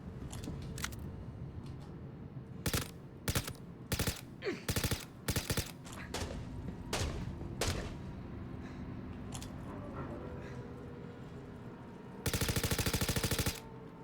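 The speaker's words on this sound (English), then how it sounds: "I'm fixing to shoot the wall here." Video game gunfire aimed at a wall, bursts of automatic shots spaced irregularly with a longer sustained burst near the end, fairly quiet overall.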